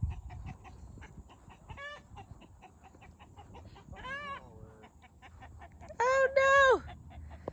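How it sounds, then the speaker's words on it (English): An aggressive rooster on a small Texas homestead clucks in short bursts and gives brief squawks. One louder, drawn-out call comes near the end, all against faint outdoor background noise. "This is actually one of the roosters that are extremely mean."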